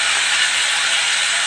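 Spices and turmeric sizzle in hot oil in a pan for a red pumpkin curry, a steady, close, loud hiss that runs throughout.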